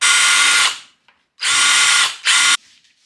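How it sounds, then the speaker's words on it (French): A power drill runs in three loud, close bursts as it bores a hole, two longer whirs followed by a short one, separated by brief pauses. "Bon, alors du coup, après on va percer."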